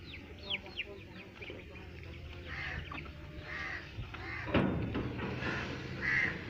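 Desi hens and a rooster call faintly amid a busy outdoor background, scattered squawks and clucks at moderate distance, with some people talking.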